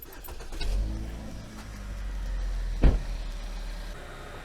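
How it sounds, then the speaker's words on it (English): A Chevy Equinox SUV engine turns over and settles into a steady, low idle, with a brief sharp transient partway through as the running engine rumbles on nearby. "We're gonna go ahead and start the vehicle up and just start filling out the transmission"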